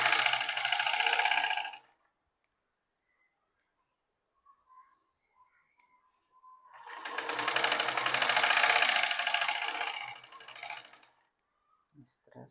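A sewing machine runs straight stitching on a baby elastic frock in two sustained, steady bursts separated by several seconds of quiet, close and fairly loud.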